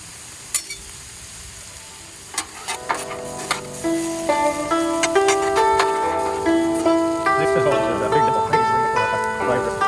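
Zucchini and squash cook on a flat griddle with a steady close sizzle and occasional stirring scrapes, partly covered by tonal music that comes in after a few seconds.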